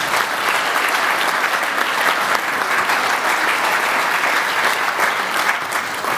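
Dense, steady applause from a large audience at a prestige gala evening of the Fédération des Amicales du Cantal, filling the room evenly with no pauses for the whole stretch.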